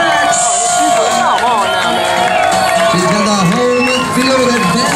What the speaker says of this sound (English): Make some noise for these ladies.